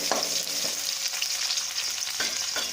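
Fish gravy masala sautéing in a pan, a loud, dense, continuous sizzle with a few soft stirring scrapes, close and steady throughout.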